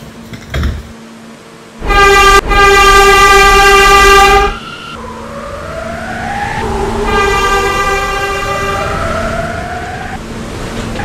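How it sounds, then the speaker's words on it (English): A New York subway D train on the IND Concourse Line pulls into 161st Street–Yankee Stadium station, its loud sustained horn blast followed by rising, whining motor tones as it rolls in under rumbling rail noise. "This is a 145th Street bound D train."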